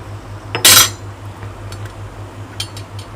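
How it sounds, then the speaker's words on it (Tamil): Metal lid set onto a cooking pot while making murukku, a single sharp clank near the start followed by a faint light clink, over low steady background hum. "மாவை போட்டு மூடி வச்சுக்கலாம்."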